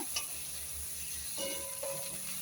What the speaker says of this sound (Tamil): இந்த பிரிஞ்சி இலையும் அந்த வெங்காயமும் பச்சை மிளகா போட்டு வறுக்கிறது